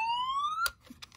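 A reproduction Tiger bicycle siren in fire engine mode gives a single rising electronic wail just over half a second long. It cuts off with a sharp click, and a few faint clicks follow.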